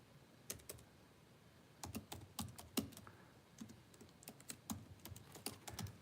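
Quiet clicking of a computer keyboard as someone types, irregular bursts of keystrokes close by with short pauses between them.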